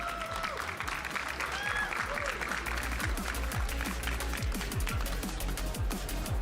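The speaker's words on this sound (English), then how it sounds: "Give a big round of applause, everyone, for Kobe Coupland." An audience at a Pokémon regional championship tournament claps steadily, a dense crowd applause that stays even throughout and comes with no cheering or speech.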